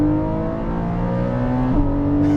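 A 2021 Porsche 718 Cayman GTS 4.0 flat-six revs hard, a loud, close, steady engine howl that drops in pitch at one gear shift, then climbs again, with no voices.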